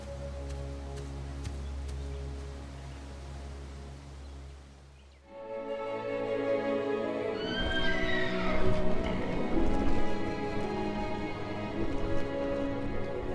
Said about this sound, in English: Ah, horses! Just what I need!